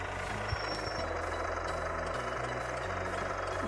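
In the Brazilian Android truck simulator game Rotas do Brasil Simulator, a truck engine runs at idle with a steady, low, throbbing rumble and faint mechanical rattle, continuous and moderately quiet, with no talk.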